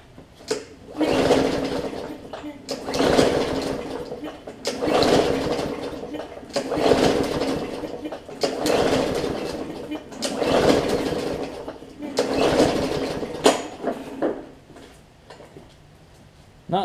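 A Briggs and Stratton engine on a Bolens push mower cranks repeatedly without starting, about six loud, rhythmic bursts of two seconds each, with short pauses between pulls.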